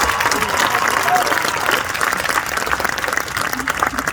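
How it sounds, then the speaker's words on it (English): Audience applause for the student speakers at a 2021 high school graduation ceremony, a steady dense clapping that fills the whole few seconds with crowd murmur mixed in. "Can we get a hand here for the student speakers?"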